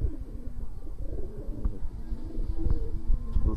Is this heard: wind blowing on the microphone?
no